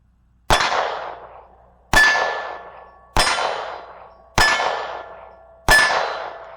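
A pistol fired left-handed at a shooting session, five loud, evenly spaced sharp shots about a second apart, each with a ringing, metallic decay and no talk between them.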